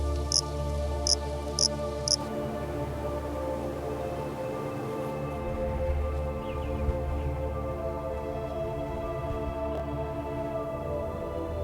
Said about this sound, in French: il observe régulièrement une population de grillons, une espèce unique qui vit aussi sur l'île aux aigrettes